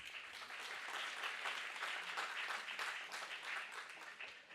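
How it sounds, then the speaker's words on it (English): Audience applause at a sustainable business forum in Asia and Oceania, dense steady clapping from a conference crowd lasting several seconds with no talk over it. "A round of applause, please."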